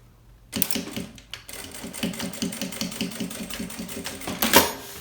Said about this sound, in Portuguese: vou costurar essa alça aqui antes de colocar o fole